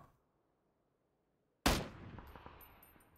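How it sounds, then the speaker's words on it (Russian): In a PUBG match, a single sharp gunshot cracks after near silence, followed by a trailing echo and a few faint distant shots. "Где-то стрельба идет, и ладно."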